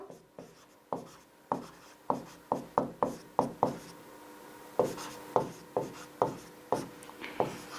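Someone writes out a Class 10 maths solution on real numbers by hand, producing a quick series of close, scratchy strokes in an irregular rhythm, with no talking.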